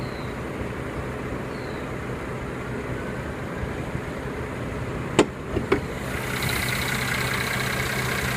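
A 2014 Mercedes-Benz C350 with a 3.5-liter direct-injection V6 idles with the hood up, a steady low hum with a couple of brief clicks near the end.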